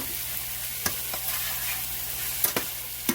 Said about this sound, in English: we're just gonna mix all the beef together